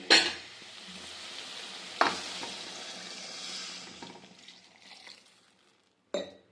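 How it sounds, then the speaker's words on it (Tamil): Stirring chicken masala in a cooking pot with a sizzling, frying background, a couple of sharp scrapes of a utensil against metal, and a final clank near the end. "இது ஒரு பெரட்டு பெரட்டிட்டு நம்ம தேவையான அளவு தண்ணி ஊற்றிடலாம்"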